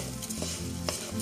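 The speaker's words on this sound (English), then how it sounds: "we're going to add in our minced garlic. And you just want to go ahead and mix that together" Golden rice stirred with minced garlic in a hot pan, a continuous sizzle and frying hiss with soft scraping strokes of the spoon, close and without talk.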